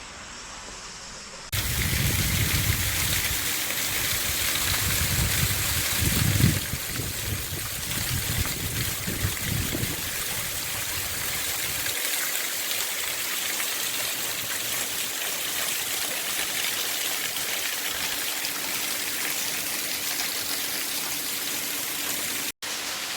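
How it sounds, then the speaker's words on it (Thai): Water from a mountain waterfall flows steadily as a broad, continuous rushing wash, with louder low rumbling splashes early on before settling into an even, close roar. "ผมกำลังยืนอยู่ ตรงน้ำตกที่ไหลมาจากภูเขา"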